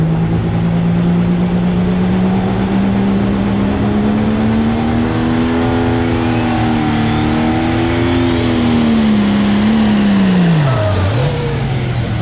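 A loud, close diesel super stock pulling tractor engine drones steadily at a tractor pull, its pitch gradually rising and wavering before dipping sharply near the end, with no talking over it.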